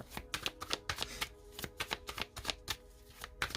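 A deck of Witch's Story tarot cards being cut and shuffled, rapid papery flicks and riffles in quick bursts, close and crisp, with no talking.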